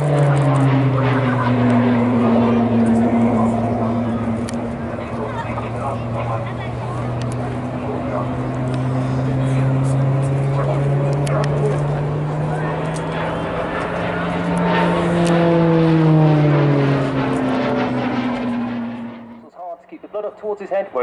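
A Tucano turboprop trainer flying a display at a seaside air show, its engine and propeller drone rising and falling in pitch as it passes, loud and continuous for about twenty seconds before cutting off.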